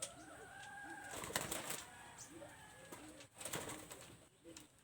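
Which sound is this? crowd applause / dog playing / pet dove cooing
pet dove cooing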